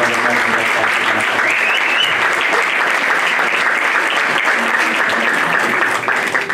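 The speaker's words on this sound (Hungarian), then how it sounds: "hatalmas tapsot érdemelnek az első kategória táncos, hogy ilyen fiatalon kimernek állni ide a közönség elé" Sustained, dense applause from an audience at a Hungarian solo folk dance competition, greeting young dancers; loud and steady throughout with a faint voice in the background.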